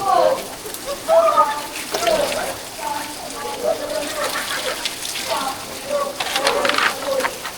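Water flows and splashes steadily at a mountain drinking spot on Mt. Banahaw, heard close under people talking.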